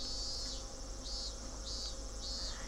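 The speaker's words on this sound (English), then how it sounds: "as I lay here listening to the voices of the cicadas" Cicadas chirp in the Higurashi game, a steady insect drone with shrill, rhythmic pulses about every half second, alone and without speech.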